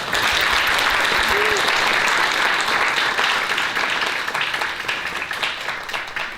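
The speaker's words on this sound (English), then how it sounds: "Another round of applause" Renewed audience applause for author Becky Lomax at a hiking talk: a full, sustained roar of clapping from a crowd, steady and loud, tapering gradually near the end.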